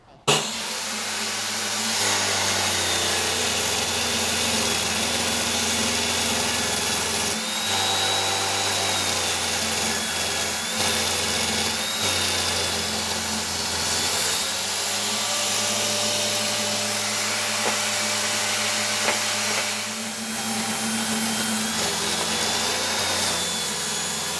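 A table saw runs steadily and loudly nearby, its motor whining continuously as a wooden board for a sofa or bench frame is ripped in half, with no talking.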